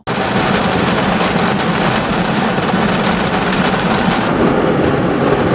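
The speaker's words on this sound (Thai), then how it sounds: "ตกอีกแล้วฝนนะครับ" Heavy rain pours steadily at a riverside campsite in Saraburi, Thailand, a loud, dense hiss with deep rumbling of thunder underneath, constant for several seconds and with no voices.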